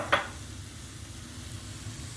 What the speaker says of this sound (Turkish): zeytinyağında kavuracağım.